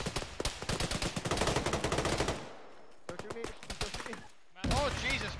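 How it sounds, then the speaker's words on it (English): Dense machine-gun fire rattles in rapid bursts through a military video game, with heavy booming shots mixed in. It breaks off briefly, then returns in shorter volleys, and a shouted voice cuts in near the end. "That's a tank cannon, north."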